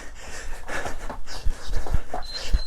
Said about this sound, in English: You're breathing heavily.